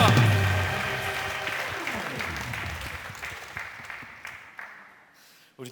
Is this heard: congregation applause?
yes